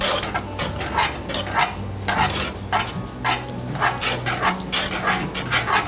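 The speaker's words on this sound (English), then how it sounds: "Starting to get a little bit harder to stir that around." Thick polenta being stirred in a pot over a lowered flame, a spoon scraping and sloshing through the dense mixture in repeated rhythmic strokes, close and fairly loud.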